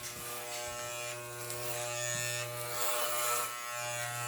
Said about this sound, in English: I just take the clippers, I do 3/4 of an inch all over.